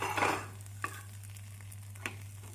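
Layered parotta cooking on a dosa pan with oil, a soft sizzle and a short scraping stir at the start, then two faint spatula taps over a quiet steady hum.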